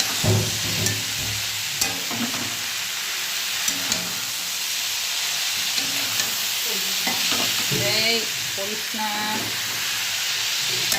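Food stirred and fried in a pan for a home-style Bengali recipe, with scraping strokes of the spatula coming at irregular intervals over a steady close sizzle and hiss for the whole stretch.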